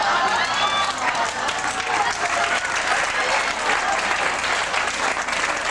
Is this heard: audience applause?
yes